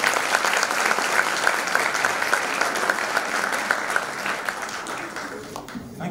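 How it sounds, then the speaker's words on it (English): Conference audience in a large room gives a loud, sustained round of applause, dense clapping with a few sharper individual claps, slowly tapering toward the end. "let's give him a big applause and shake the room"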